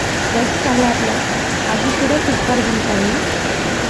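Steady heavy village rain hisses down in a dense, even wash, with a voice talking faintly underneath.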